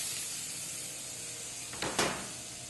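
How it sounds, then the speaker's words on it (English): Seafood scallops sear in a very hot pan, giving a steady broadband sizzle and hiss throughout, with two brief louder spatter bursts near the end; no talking. "you hear those scallops searing"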